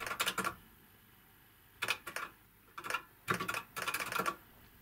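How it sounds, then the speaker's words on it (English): An old, chunky clicky computer keyboard with a metal case is typed on in several quick bursts of sharp, close key clacks separated by short pauses. "just like typing on one of those old quality clicky keyboards that you used to get with old XT PCs"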